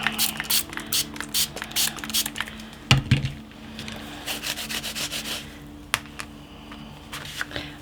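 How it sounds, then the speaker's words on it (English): A sponge dabs paint onto a paper bag in quick, uneven bursts of soft, scratchy rubbing, close up, with a few sharper taps and no talking. "I'm going to use the sponge Bizzo like I did the other time. So prepare to get painty fingers."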